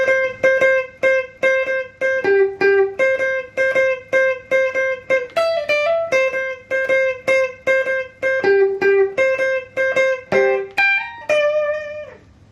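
An electric guitar plays a repeating riff of clipped, evenly paced notes, mostly on one pitch with occasional lower and higher shifts, clear and close with no talking.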